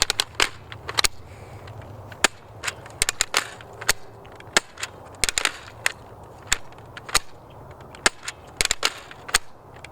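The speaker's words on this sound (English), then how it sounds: "Now let's fire this blaster." A Nerf Vortex Diatron blaster firing discs outdoors down an 80-foot range, a steady series of sharp snapping cracks about every half second, close and crisp over a low background hum, with no talking.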